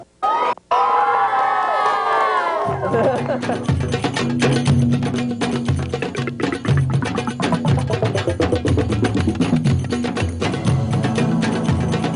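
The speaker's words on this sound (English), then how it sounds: "Let's everybody give a big cheer for Socastee." Socastee Elementary schoolchildren on an outdoor field trip burst into loud, sustained cheering and shouting together, a dense crowd roar of young voices with whoops that carries on for several seconds after a brief opening sound.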